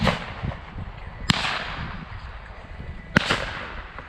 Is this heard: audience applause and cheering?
no